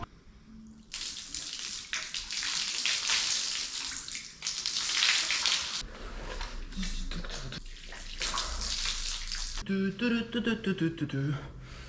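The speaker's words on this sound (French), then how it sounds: "Là, c'est de l'eau froide au robinet, enfin robinet, oui, bah oui, au robinet et à l'arrosoir." Cold water splashes and pours in bursts from a tap and a watering can during a shower, a loud rushing spray with short pauses, followed at the end by voices talking.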